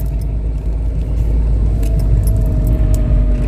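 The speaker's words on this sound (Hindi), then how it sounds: "इंजन का साउंड से ही पता चल जाता है कि हम सही जा रहे हैं या गलत जा रहे हैं।" A car engine pulling in first gear at about 20 speed gives a loud, steady low rumble with continuous road noise and faint rattles throughout.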